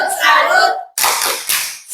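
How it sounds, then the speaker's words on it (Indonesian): A classroom group performing the tepuk salut clap chant, bursts of clapping mixed with children's voices, loud and close, in rhythmic clusters. "kita tepuk salut untuk adik Yohin dulu"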